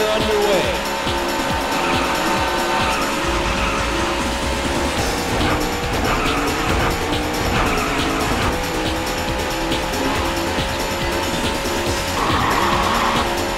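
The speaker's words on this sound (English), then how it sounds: "Gentlemen, start your engine." Race car engines roar continuously in the arcade racing game Daytona USA, with shifting engine pitch, screeching tire squeals and skids, and game announcer speech mixed through a loud, busy soundtrack.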